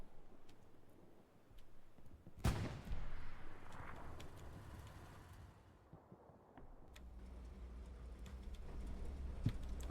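A tank cannon fires in the World War II game Hell Let Loose, one loud sharp blast with a long rumbling tail, followed by lingering engine drone and faint ticks.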